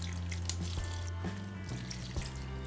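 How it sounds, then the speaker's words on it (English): Water is poured from a container over pebbles when starting seeds for an aquaponics system, a steady close splashing trickle with a few brief breaks in the flow. "So as I pour this in, I just put it right over those pebbles"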